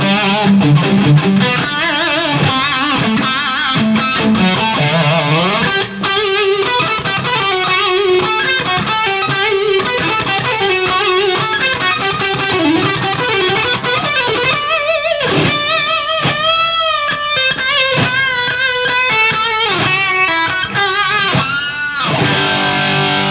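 Electric guitar with heavy distortion playing a fast, continuous classical melody with flowing runs and bends, loud, close and sustained for the whole stretch without any voices.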